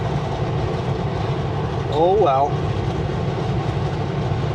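A freight train hauling potash passes at a distance on a railway line, producing a steady low rumble with a brief screeching squeal partway through, while a person speaks briefly nearby.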